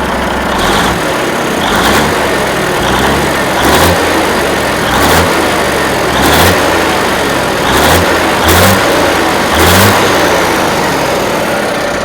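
The engine of a Marmon 57P known as Black Betty runs close and loud, with a rough idle broken by regular blips of revving that rise and fall roughly every second.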